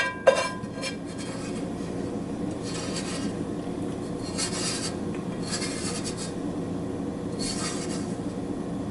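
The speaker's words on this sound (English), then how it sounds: "I'll scrape off a bit of the pan for what I can get." A utensil scraping baked cheesecake off a pan, with repeated short rasping strokes at close range, fairly soft over a steady background hum.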